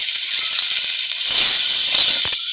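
Mud crabs tipped into hot oil with bori set off a loud, steady, hissing sizzle that stays close and intense throughout.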